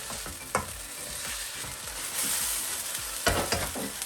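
Bean sprouts and soft noodles get stirred in a hot pan over medium heat, a soft sizzle running under scraping utensil strokes, with two sharper clatters of the spatula against the pan.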